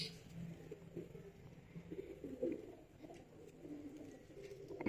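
Soft, low cooing from a closed-tail pigeon repeats faintly in the background over a quiet, steady ambience.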